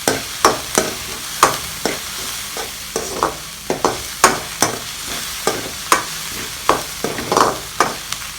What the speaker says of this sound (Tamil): லைட்டாக வதக்கிக்கணும்.